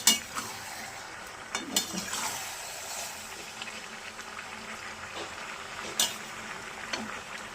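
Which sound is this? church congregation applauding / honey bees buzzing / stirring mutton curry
stirring mutton curry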